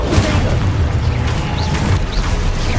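The Confringo blasting spell explodes in the video game Hogwarts Legacy, a loud, continuous booming rumble with crackling debris throughout.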